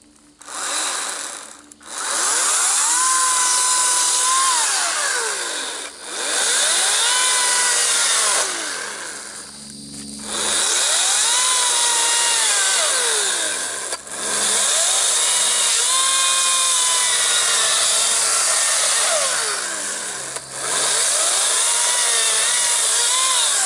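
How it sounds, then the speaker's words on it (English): Battery-operated chainsaw girdling an elm tree, cutting into the bark in several long bursts with a high whine that rises and falls, briefly pausing between cuts, loud and close. "this battery operated chainsaw might be a little on the sissy side"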